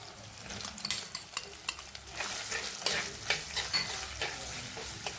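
Chopped onion sautéing with crushed garlic and ginger in a hot pan: a close, bright sizzle broken by repeated quick scrapes and stirring clatters of a spoon against the pan, no voices.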